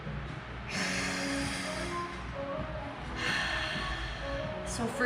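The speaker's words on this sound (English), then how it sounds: "Breathing." Slow deep breathing during a seated yoga session, with long audible inhales and exhales, close and fairly soft, one drawn-out breath after another.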